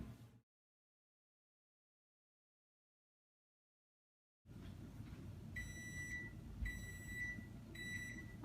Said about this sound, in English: there goes the timer for our muffins